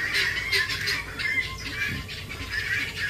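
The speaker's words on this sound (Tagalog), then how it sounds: "Wala, ang ingay ng gansa." Geese honking and squawking noisily at close range on a farmyard among chickens, a steady chorus of harsh calls throughout.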